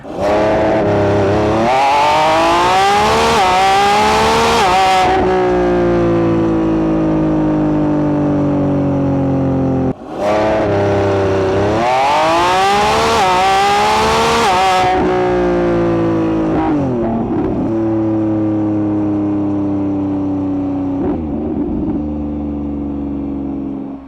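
The 1,001 hp V12 of a Lamborghini Revuelto roars through repeated hard full-throttle launches in a 0-60 mph test. Each run climbs through rising gear pulls, with a sharp shift gap between bursts, and the loud engine note finally winds down.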